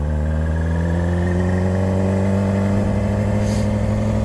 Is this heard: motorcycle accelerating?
yes